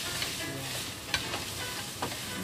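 Shrimp and zucchini sizzling in a pan, a steady broadband frying hiss with a few sharper crackles and pops scattered through, fairly close and moderately quiet, with no voices.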